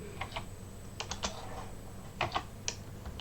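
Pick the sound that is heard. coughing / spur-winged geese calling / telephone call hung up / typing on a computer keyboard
typing on a computer keyboard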